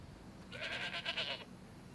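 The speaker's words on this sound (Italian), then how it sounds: "Altre capre, tante capre," A goat in a video game lets out one wavering bleat lasting about a second, fairly clear over low background noise.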